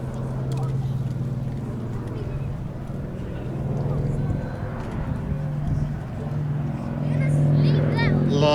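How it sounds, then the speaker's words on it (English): Lockheed 12A Electra Junior making a banked fly past at Sywell airshow, a steady droning engine under continuous commentary from someone speaking throughout. "So John bringing the aircraft around again in a nice tight right hand bank for a fly past"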